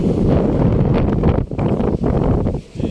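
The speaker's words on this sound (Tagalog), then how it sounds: "Grabe, ang lakas din pala ng hangin" Strong gusty wind buffets the microphone at the Pililla windmill farm beside Laguna de Bay in Rizal, a loud roaring rumble that briefly eases before surging again.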